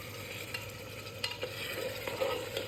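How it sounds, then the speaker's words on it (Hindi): Onion and tomato gravy for Sindhi-style lauki kofta is stirred and fried in a pan, a steady sizzle with scraping spoon strokes against the metal. "प्याज और टमाटर को इसी तरीके से भूनना है।"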